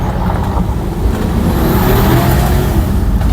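A twin-turbo 450 hp V8 Porsche accelerating hard on gravel, its engine a loud, steady, rising roar heard from close by, with no talk over it.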